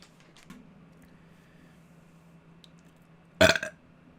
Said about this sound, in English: I was about to record the commentary and I just burp.